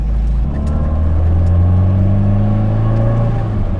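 The engine of a Tofaş Murat 131 car hums and is revved steadily nearby, a low continuous drone that rises slightly in pitch with no pauses.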